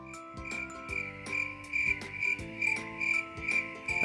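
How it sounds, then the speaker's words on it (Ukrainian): A steady, shrill chirring of grasshoppers on a July summer day pulses on without pause, dense and continuous, layered over a faint musical background. "Приємно в цей час чути невпинне стрекотіння коників."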